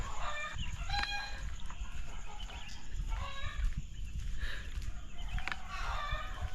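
Roosters crow repeatedly and chickens cluck around a town on Gili Air, Lombok, several birds calling at once at middle distance over a continuous outdoor murmur.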